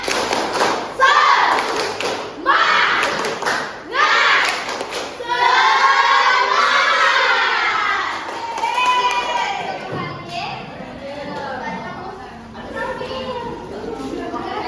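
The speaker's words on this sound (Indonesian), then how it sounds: "kita mulai, tepuk semangat." A classroom of children performs the tepuk semangat, a rhythmic clapping chant: loud, patterned claps and thumps mixed with shouted young voices, close and lively, with a teacher's voice leading at times.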